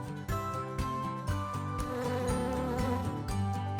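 Buzzing of worker bees, a continuous droning hum that holds steady throughout with faint musical tones layered underneath.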